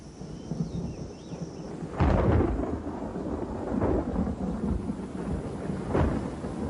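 A thunderstorm around a limestone cave, with deep rumbling thunder and sharp cracks rising over a steady wash of rain, loud bursts recurring every couple of seconds.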